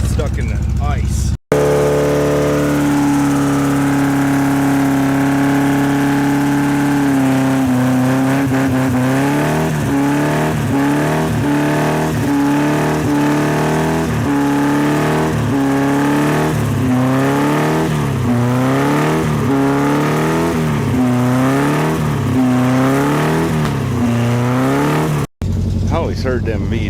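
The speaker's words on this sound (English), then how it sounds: "That's how you do a VW burnout. Get stuck in the ice." A Volkswagen car stuck in ice revs hard and holds high, wheels spinning as the pitch climbs and wobbles in repeated surges, loud and close, with no talking.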